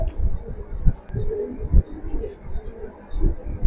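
Racing pigeons coo in a loft with low, throaty, repeated calls, close and fairly steady across a few seconds, with some faint background noise.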